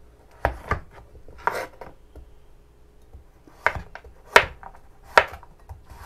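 Knife slicing through peeled, deseeded pumpkin on a board: several sharp, close chopping strikes in irregular bursts, with quiet gaps between cuts.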